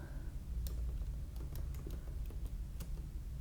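Keys on a computer keyboard clack in a steady, irregular run as a prompt is typed into ChatGPT, each crisp tap close and clear over a low, constant background hum, with no voices.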